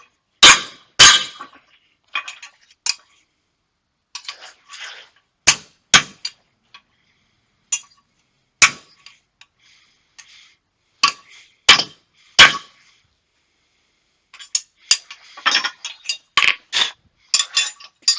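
A hammer strikes hot metal hammer tongs to flatten them, sharp ringing blows coming in irregular bursts with quiet gaps between, some single hits and some quick runs of taps.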